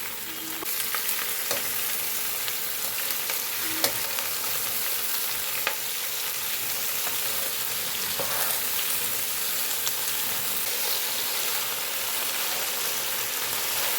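Okra and slit green chilies fry in hot oil in a pan with a steady, dense sizzle throughout, broken by a few faint clicks from stirring, with no talking.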